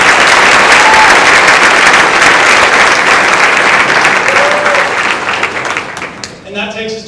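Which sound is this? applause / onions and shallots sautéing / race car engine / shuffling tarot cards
applause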